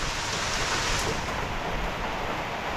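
Steady, dense rain hiss falling continuously, broadband and fairly loud, with no voices.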